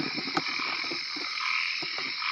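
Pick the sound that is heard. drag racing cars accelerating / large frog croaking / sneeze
large frog croaking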